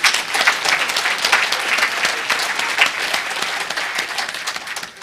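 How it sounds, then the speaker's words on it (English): An audience at a memory-training talk at a hacker conference claps together in warm, steady applause, dense and close, lasting a few seconds before tapering slightly. "Give yourselves a round of applause."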